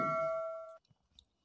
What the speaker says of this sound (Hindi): बाजू में आपेलू घंटी बटन दबावी देजो